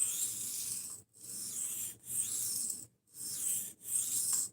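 An Old Timer folding knife is drawn across a 1000 grit sharpening stone in four even, rhythmic strokes, each a soft, close, hissing scrape separated by brief pauses.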